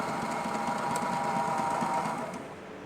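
A sewing machine stitches in one steady, fast, humming run that eases off and fades at the end, heard close with no voices.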